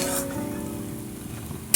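Prawns fry in hot oil with a continuous soft sizzle and crackle, fairly faint, ending in a brief louder clatter, with no talk.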